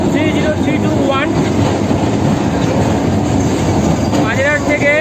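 A Kolkata Circular Rail local train runs steadily with a constant loud rumble, rattling carriages and occasional wheel squeals, heard from inside the moving train, with people talking over it.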